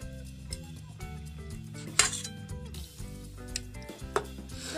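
A lid goes onto a metal cooking pot with one sharp clatter midway and a lighter clink near the end, over a steady tonal background.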